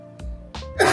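A short cough burst from a person during a casual chat, close to the mic, with a breathy throat sound trailing into a louder final burst.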